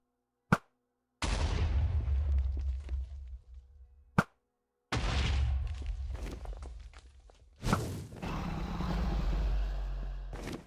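Weapon fire while shooting enemies in Minecraft (Tekkit Classic Reloaded), heard as sharp single shots followed by long booming, rumbling blasts that fade slowly. Several of these bursts are spaced across the stretch, loud and close.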